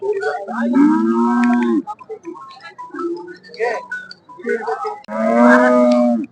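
A cow at a cattle market moos loudly and close by, two long drawn-out calls at the start and end, with voices and market bustle in between.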